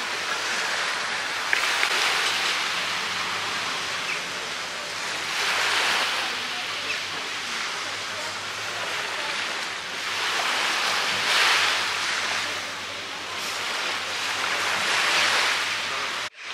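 Sea waves roll in at a seaside bar, a broad hiss of surf rising and falling in slow swells, with wind noise over the microphone.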